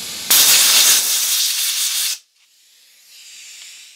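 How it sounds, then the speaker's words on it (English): Blast of compressed air from an air compressor nozzle blowing dust out of a Raise3D Pro2 Plus 3D printer, one loud sustained hiss of about two seconds that cuts off abruptly, followed by a fainter, softer hiss. "I'm gonna grab my air compressor and blow this out"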